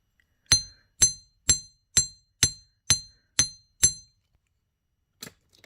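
Eight evenly spaced, ringing metallic hammer strikes land on wire earring components about twice a second, each blow sharp and bright with a short decay, followed by a pause and a faint knock.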